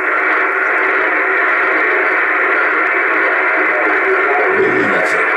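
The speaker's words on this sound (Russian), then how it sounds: "Вот я настраиваю антенну в резонанс." Steady hiss and static from a radio receiver while an anti-noise antenna is tuned to resonance, a continuous loud noise band that stays even throughout, with a faint low murmur near the end.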